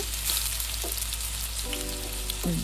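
Curry leaves and chana dal frying in oil after mustard seeds have popped, for cabbage poriyal; a dense close sizzle with sharp crackles and a faint whistling tone, steady throughout and without speech.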